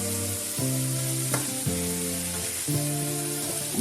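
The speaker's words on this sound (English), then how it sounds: "What I like to do is I like to caramelize the tomato paste a little bit" Tomato paste fries and caramelizes in a hot pan for a vegan pasta dish, a close, steady sizzle and crackle running throughout, with occasional stirring scrapes and no talking.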